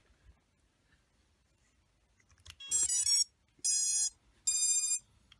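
A Flysky FS-i6S radio-control transmitter sounds its no-receiver-connection alarm: three short, bright electronic beeping bursts in a steady rhythm after a quiet lead-in, with faint handling noise before.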